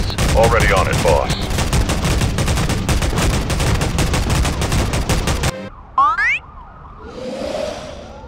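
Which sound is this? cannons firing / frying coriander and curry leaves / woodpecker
cannons firing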